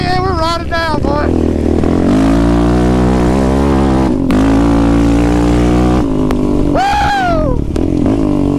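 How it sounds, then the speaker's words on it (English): Group of dirt bikes and sport quads riding together on a winter trail, engines loud and close with rising and falling revs throughout, one machine sweeping past near the end, and voices shouting over the noise. "Yeah, we're riding down"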